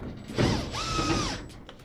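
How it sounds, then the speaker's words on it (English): A power screwdriver whirs briefly while driving long Phillips screws into the top panel of a Hotpoint/GE HTDX100E dryer, a short rising-and-falling motor whine with light clicks, close and fairly quiet. "We only got to install the 2 Phillips long screws that holds the"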